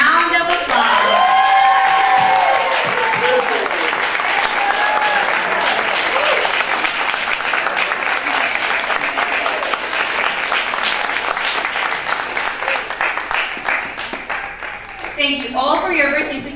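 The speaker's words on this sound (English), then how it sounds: "Let's give them a round of applause." A graduation audience applauds the class of 2013 in a large hall. Loud sustained clapping with some whoops carries the whole stretch, thinning slightly near the end as a voice returns.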